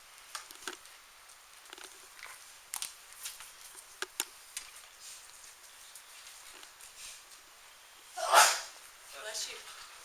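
One sharp sneeze bursts out in a quiet classroom during a timed test, set among soft rustles and small taps.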